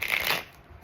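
A brief riffle of tarot cards being shuffled, a crisp papery flutter close to the microphone that fades quickly into quiet, with no voices.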